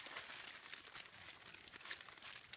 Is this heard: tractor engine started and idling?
no